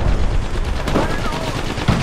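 Rapid automatic gunfire in the video game Apex Legends rattles continuously and loudly throughout, with bursts of overlapping shots and brief whizzing game effects layered on top.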